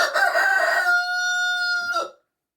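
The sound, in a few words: hen clucking on its nest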